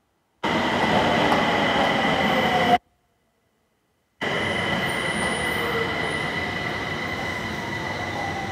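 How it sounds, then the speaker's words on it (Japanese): A loud subway train on the Nagoya Meijo Line rumbles and squeals along the rails into Motoyama Station, cut by a brief silence, then the steady roar continues as it pulls in. "A train is arriving at platform 4."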